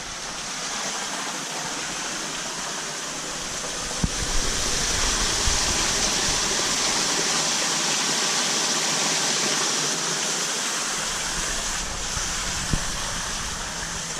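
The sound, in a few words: water flowing through koi pond trickle filter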